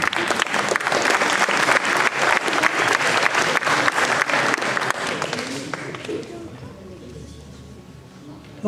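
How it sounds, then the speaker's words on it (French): Audience applause for a Belgian champion at a youth award ceremony, a dense sustained burst of clapping that fills the room and then fades away over the final seconds. "Alors on peut doublement l'applaudir parce qu'il est champion de Belgique."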